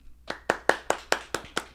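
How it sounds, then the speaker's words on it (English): Sharp, evenly spaced hand claps from an applause clap track, about eight crisp strikes in a steady rhythm, close and dry with no talking. "You need to fix that clap track there, Ethan."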